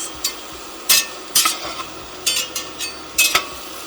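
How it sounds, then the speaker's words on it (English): Mushrooms frying in a soup pot while a utensil stirs them, a soft sizzle underneath repeated sharp scraping strokes against the pot, coming in an irregular rhythm. "cook these mushrooms down until they're softened"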